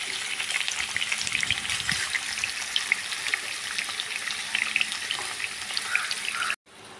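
Chicken pieces shallow frying in a pan give off a steady, close crackling sizzle with fine popping spatters, which cuts off abruptly near the end.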